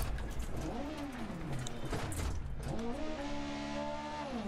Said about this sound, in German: Zum Glück ist das Auto nicht ausgegangen.